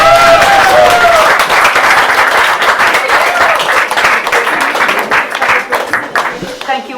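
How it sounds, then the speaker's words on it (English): Audience at an evening poetry reading and open mic night breaks into loud, sustained applause for a guest poet, the clapping gradually thinning out toward the end with some cheering mixed in. "Let's give Cora a roaring round of applause."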